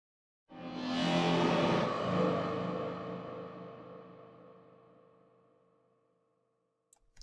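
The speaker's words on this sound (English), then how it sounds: "we're gonna put some reverb on it" A single psytrance percussive one-shot hit rings out with a long reverb tail that slowly decays over several seconds, followed by a couple of faint clicks at the end.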